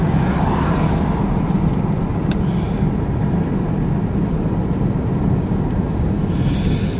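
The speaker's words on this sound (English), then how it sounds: "we're driving home now." Steady, loud road rumble fills the cabin of a car driving home at night, a constant broadband roar with a few faint rattles and no one speaking.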